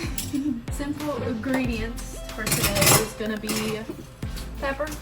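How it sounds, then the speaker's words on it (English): Dishes and cutlery clatter and clink in a home kitchen as someone washes up, a busy, fairly loud run of clanks beneath a person talking. "it's my mom washing the dishes."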